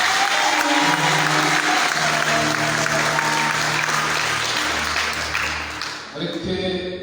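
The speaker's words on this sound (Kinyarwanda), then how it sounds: "Mureke twongere dukomere Imana amashyi" Church congregation applauding together, a loud dense wash of clapping with a tonal murmur beneath, sustained for several seconds before dropping off sharply near the end.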